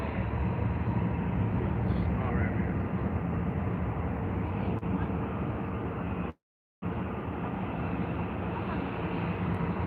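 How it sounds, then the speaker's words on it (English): A Dreamliner airliner departing London Heathrow, its jet engines producing a broad, continuous distant roar that holds steady throughout apart from one brief dropout. "We can get a decent footage of the Dreamliner leaving."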